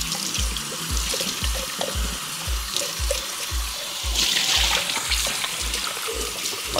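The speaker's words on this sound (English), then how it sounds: "Okay, so what I'll do is rinse this out quickly and so I can start adding more." Steady running water from a tap rinses out locs, a broad continuous hiss with a pulsing low thump underneath, close and fairly loud throughout, with a brief spoken word near the start.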